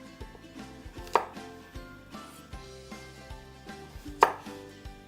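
A kitchen knife trims and quarters radishes on a cutting board for a tomatillo sauce: a series of crisp, regular chops close by, two of them noticeably harder knocks, with no speech.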